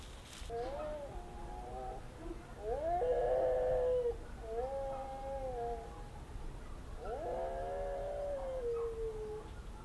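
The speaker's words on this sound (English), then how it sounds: "a dog from one of, I guess, our neighbours in the village who own the land." A dog howls in several long, wavering calls separated by short pauses, fairly distant over a quiet background hum, in a Portuguese village.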